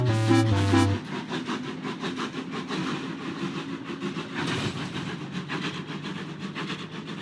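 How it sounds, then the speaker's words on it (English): Thomas the tank engine running along icy branch-line tracks, a steady mechanical rumble with rhythmic clatter after a brief loud tonal burst at the start, continuous and fairly close. "The two friends sped off, Thomas chugging faster than ever."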